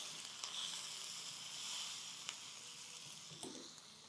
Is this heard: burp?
no